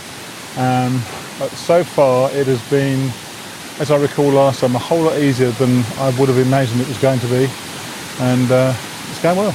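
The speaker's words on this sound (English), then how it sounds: "You can probably hear the waterfall in the background." A waterfall on the Appalachian Trail rushes as a steady broadband wash far in the background, while someone talks continuously over it.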